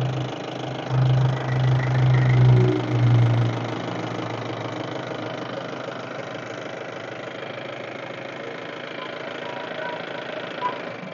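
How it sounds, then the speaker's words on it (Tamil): A used Mahindra Bolero DI diesel engine idles close by with a steady mechanical chug, louder for the first few seconds after start-up and then settling to an even, lower hum. "இப்போ வண்டியோட இன்ஜின் சவுண்டை கேட்போம்."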